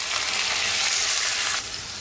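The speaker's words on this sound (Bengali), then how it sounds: "পেঁয়াজ দিয়েছি আর তেল। পেঁয়াজটা ভালো করে" Onions fry in hot oil with a loud, close, continuous sizzle that eases slightly near the end.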